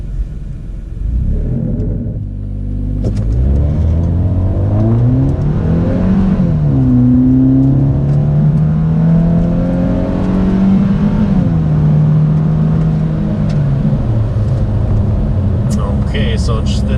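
Car fitted with an exhaust tip accelerating from standstill toward 100, a deep rumbling engine note rising steadily through gears and easing off, loud and close, with someone speaking over it.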